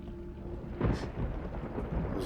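Thunder rumbles during a lightning storm outside an apartment in Resident Evil 3 Remake, a low crack swelling up and then rolling over steady rain.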